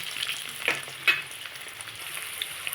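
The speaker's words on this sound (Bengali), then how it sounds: "একদম লাল লাল করে সুন্দর করে ভেজে নেব" Steady crackling sizzle of eggs frying in hot mustard oil, with a few sharper pops and spatters rising above the constant hiss.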